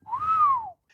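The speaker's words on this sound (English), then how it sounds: "Yes, whistling." A single clear whistled note from a person, rising then gently falling in pitch over about a second, close and alone.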